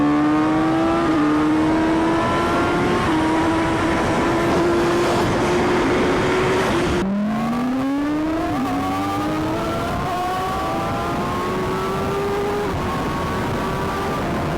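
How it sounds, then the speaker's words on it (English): An Aston Martin Valkyrie hypercar accelerates hard through full pulls, its high-revving engine screaming upward in pitch through rapid gear shifts, with a sharp break midway before another climbing run, loud and close. "Maybe we did a few like crazy pulls with the Valkyrie."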